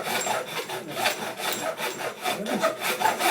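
Hand saw cutting through wood indoors, a steady back-and-forth rasping stroke repeating roughly every half second, close and fairly loud with no talking.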